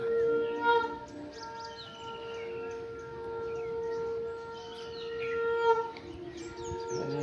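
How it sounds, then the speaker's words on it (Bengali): A bird calls nearby with sustained, whistling tones and chirps that rise and fall over a faint, quiet outdoor background. "পাখি এসে বসে আছে"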